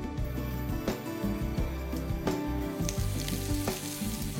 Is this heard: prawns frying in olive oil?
yes